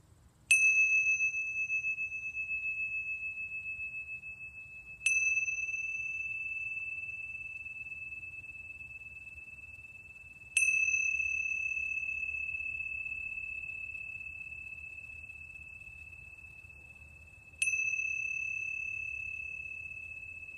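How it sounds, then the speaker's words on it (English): A chime rings during a Tong Ren relaxation session, struck four times at slow, uneven intervals, each bright tone ringing out and fading slowly in an otherwise quiet room. "I'll finish with a little bit of chime again."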